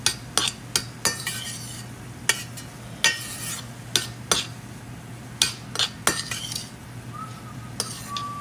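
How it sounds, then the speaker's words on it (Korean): A utensil scrapes and clinks against a pan while stir-fry ingredients and rice are mixed, with irregular sharp knocks and stirring scrapes over a steady low hum. "이게 볶는다는 느낌이 아니라 약간 비빔 느낌으로 가자. 좀 더 잘 비벼서"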